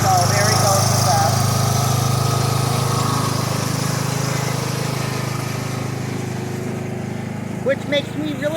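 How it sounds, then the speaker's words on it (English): A lawn mower cuts grass in a yard with a steady, loud engine drone that holds throughout and eases slightly toward the end, with a few faint outdoor sounds on top. "going to be mowing up the grass out here"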